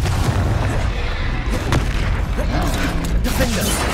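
Confringo fire-blast spell cast in the video game Hogwarts Legacy, loud booming blasts and mechanical crackles amid dense game combat noise, continuous and close.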